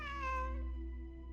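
A single drawn-out cat meow from a video game, clear and tonal, falling in pitch and fading, over a low steady hum.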